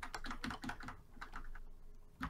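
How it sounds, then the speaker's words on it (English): A computer keyboard is hammered with rapid repeated keystrokes in quick bursts and a final clack, close and moderately loud, with no speech. "unless you don't mind hearing spamming of keys"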